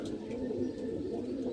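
A soft-feathered pigeon held in the hand gives a low, continuous throaty coo, close and fairly quiet, with steady warbling pulses.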